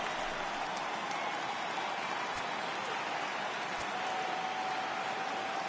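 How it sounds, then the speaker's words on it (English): Steady rain pouring down during a playoff baseball game in MLB The Show 18, a constant even hiss with a faint tone running through it and a couple of soft thumps. "the conditions aren't ideal with the rain coming down"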